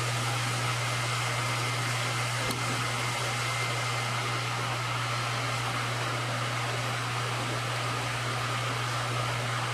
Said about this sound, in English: the oil's coming out of the bottom of this tank, through this pump, and then back into the top of the tank